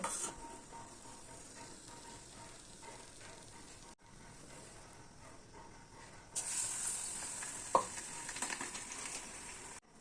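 Chilli fritters (mirchi pakode) frying in hot oil, giving a soft continuous sizzle that rises louder partway through, with occasional clinks of a utensil against the pan and no talking.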